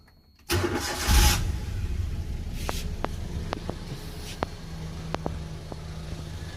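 A Maruti Alto K10 car engine cranks and starts, then settles into a steady idle with light ticking clicks, heard alone at close range.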